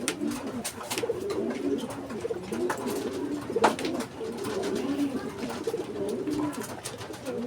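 Racing pigeons kept for a derby coo steadily at night in a loft, soft repeated throaty calls over a constant background of rustling and low murmur.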